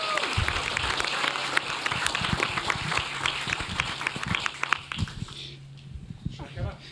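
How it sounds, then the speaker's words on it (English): Round of applause at a tech conference stage as a guest walks up, a crowd clapping with scattered loud claps and some voices mixed in, fading out toward the end. "Can we give him a lekker round of applause?"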